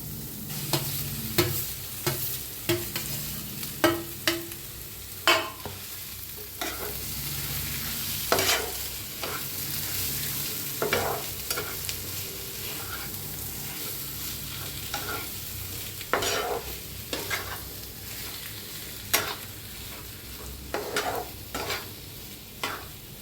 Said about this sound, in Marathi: आता ह्याच्यात मिक्स करूया बटाटो.